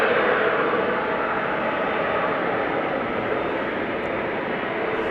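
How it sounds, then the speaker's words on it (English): A Boeing 777 airliner moves on the ground at Amsterdam Schiphol Airport, its jet engines giving a steady, broad roar that holds level and close throughout, with no voices over it. "She's moving, the 777."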